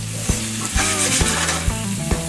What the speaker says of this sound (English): you're really only sauteing this garlic for about 30 seconds